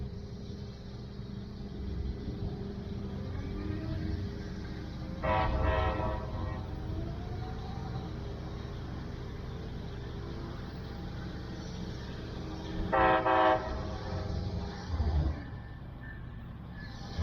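A Brightline train rumbles nearby during a qualification run, sounding its horn in two long blasts several seconds apart over a constant low engine drone.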